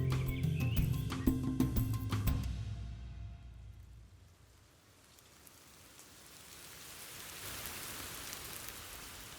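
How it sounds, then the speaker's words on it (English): Heavy rain pours steadily, a dense wash of hiss that swells again after a brief lull; a burst of louder, layered sound opens the stretch before the downpour settles in. "Heavy rain brings flooding."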